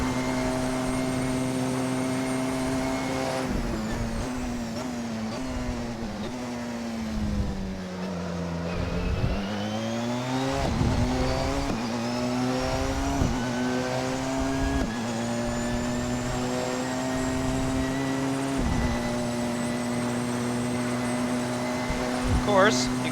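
A Porsche 919 Hybrid race car accelerates hard with a rising engine whine that climbs steadily in pitch, drops at gear shifts and repeats, and ends bouncing off the rev limiter, loud and continuous, with a voice talking underneath.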